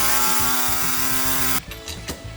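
A high, steady whine from a rotary cutting tool trimming a small metal boost reference tube for a carburetor on a supercharged 1965 Mustang, close and loud, then stopping abruptly into quieter handling noise.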